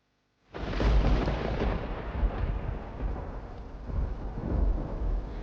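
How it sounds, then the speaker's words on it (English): After a brief silence, thunder breaks with a sudden loud crack and rolls on in deep, heavy rumbles that swell and ebb. "A loud crack of thunder brought Derpy back to the present"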